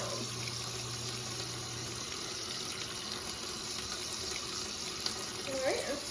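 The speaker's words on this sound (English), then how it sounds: "you rinse soap off well and use a clean towel to pat dry your hands" A kitchen or bathroom tap runs steadily while hands are rinsed under it, a constant broadband hiss of flowing water with a faint splash near the end.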